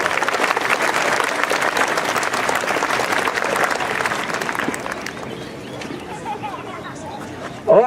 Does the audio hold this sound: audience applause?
yes